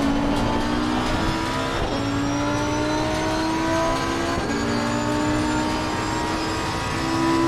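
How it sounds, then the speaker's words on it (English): A GT race car engine in the racing game Assetto Corsa Competizione screams at high revs from the in-car view, a loud, continuous tonal wail that rises slowly in pitch between brief gear-change dips, with no talking. "just listen to the emotion of this engine screaming along the track."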